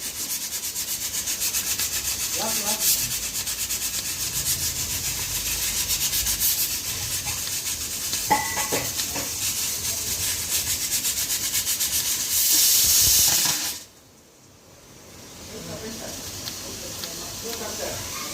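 Fish frying in hot oil in a home kitchen, a steady crackling hiss that runs throughout, then cuts off abruptly as the heat goes off; a person talks over it at times.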